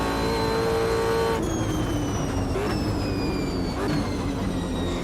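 A race car engine in the Automobilista 2 racing game revs loudly and alone, climbing through the gears in several rising pulls, each cut by a brief drop at the shift.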